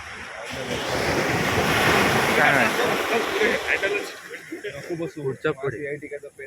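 Waves roll in at Echo Beach, a broad rushing surge with wind buffeting the microphone that swells and then fades into choppy gusts, while people talk nearby.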